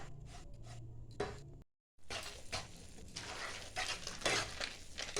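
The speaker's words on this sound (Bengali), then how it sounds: "আর সব সময় খুন্তিটা নাড়তে হবে যাতে না নিচে লেগে যায়।" A spatula scrapes and stirs gram flour in a pan over medium-low flame while making besan laddu, giving steady close-up scraping and rubbing sounds with a faint sizzle and a short silent gap early on.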